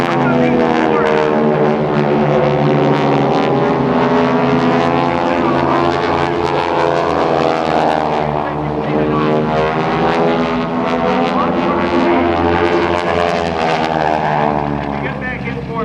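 Aeroshell Aerobatic Team propeller aircraft flying in formation at the 2013 Vectren Dayton Airshow, a loud sustained engine drone rising and falling as the planes manoeuvre, with an announcer talking throughout.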